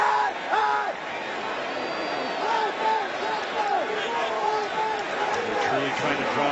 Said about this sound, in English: the fans are booing